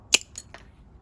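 Snips of grozing pliers nipping off the end of a pre-cut stained glass orchid petal, three short crisp glassy clicks within a second, the first loudest, close up with no talk.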